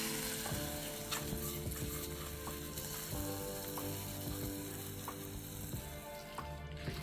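Sizzling hot oil tempering crackles over a low bubbling hiss as it is poured onto onions for pickle, with scattered clicks and scrapes of stirring nearby, no voices.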